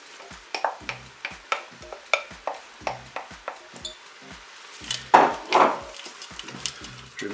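Leeks go into a Cookeo electric pressure cooker pot with chicken and are stirred with a wooden spoon, giving regular rhythmic scraping knocks against the pot and a soft sizzle, close and alone.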